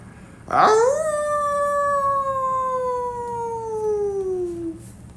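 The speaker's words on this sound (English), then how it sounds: "threw back his bullet head and howled like a wolf, ghostly and feral and mad" A wolf-like howl sound effect in an audiobook rises sharply, then holds a long, clear, slowly falling wail for about four seconds, ghostly and alone over a faint background.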